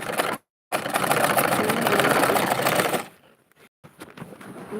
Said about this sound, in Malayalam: എൻ്റെ മെഷീൻ്റെ സൗണ്ട് എന്താണ് ചെവി തുളച്ച് കയറണമെങ്കിൽ പറയണം